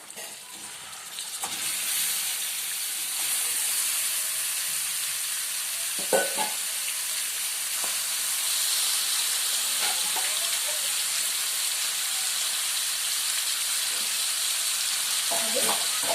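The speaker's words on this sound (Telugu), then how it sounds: "చికెన్ వేసాం కదా, బాగా కలుపుతుంది." Chicken for Chettinad chicken fry sizzles steadily in a hot pan, with a few louder scrapes and clinks as it is stirred over a continuous bright frying hiss.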